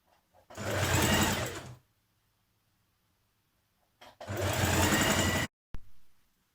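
A sewing machine stitches a double-folded hem on a thin-fabric blouse in two close, even bursts of rapid whirring, the second briefly stopping and restarting.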